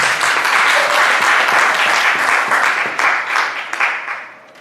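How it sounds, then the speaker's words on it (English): Dense applause fills the room at a club board installation ceremony, loud and continuous with many hands clapping at once, then tapering off toward the end. "Please clap for yourselves."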